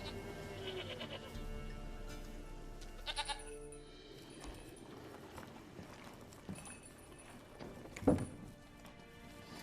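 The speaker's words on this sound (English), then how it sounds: "Sacrifice the goat." Goat bleating in the Witcher 3 game world, a few short bleats over a busy game ambience with faint hoof clops, one louder cry near the end.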